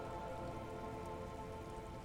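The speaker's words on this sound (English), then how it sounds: "She puts her hand in the rain." Steady rain from the game Disco Elysium falls in an even, faint patter on a surface, soft and continuous with no voices.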